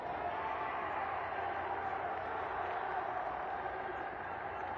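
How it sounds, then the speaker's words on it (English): Crowd at a Costa Rica vs Mexico futsal match, a steady, dense wash of cheering and noise that holds at an even level throughout without breaks. "You can hear the crowd getting into it"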